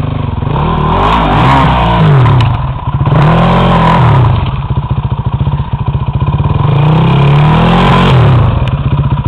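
Yamaha motorcycle engine running after a push start: a loud, close, rough idle with a clattering pulse, swelling into several revs and easing back between them, with no talking.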